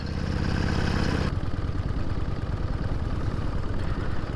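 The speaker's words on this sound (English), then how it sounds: "There's Ian Dawson on his Royal Enfield." A Royal Enfield motorcycle engine running on an outback red-dirt track, a steady loud thumping drone heard close up, its tone shifting slightly after the first second as the machine passes.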